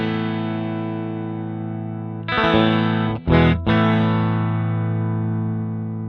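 A sustained electric guitar chord played through the Archetype Cory Wong amp plugin rings out with a ribbon mic position being shifted, the tone briefly swelling and dipping in the middle before settling and slowly fading.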